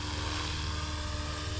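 A helicopter's rotor blades thump steadily in flight, a continuous low, pulsing drone heard from inside the aircraft, loud and even throughout, with no talk.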